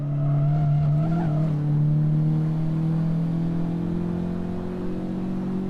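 A Honda circles a track at a spring track day with a loud, steady engine drone held close, its pitch wavering slightly while a faint squeal rides over it early on.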